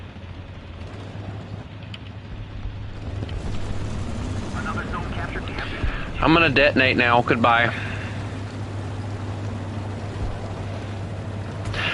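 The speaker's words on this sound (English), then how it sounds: "I hear the freaking plane, but I don't see the plane." A propeller plane's engine drones steadily and low across a War Thunder battlefield, a continuous hum sitting beneath a voice that talks over it midway.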